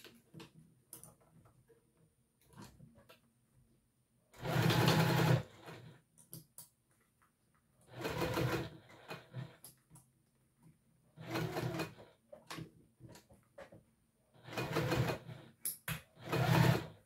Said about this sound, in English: So now what you're going to do is take that seam allowance towards the bottom and top stitch.